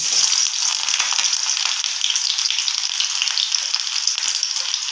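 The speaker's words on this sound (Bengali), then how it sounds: "তেলটা গরম হয়ে গেছে প্রথমেই দিয়ে দেব পেঁয়াজ কুচি" Chopped onion dropped into hot oil for a spiceless egg and tomato dish sizzles loudly and steadily up close, a hissing, crackling fry with no pause.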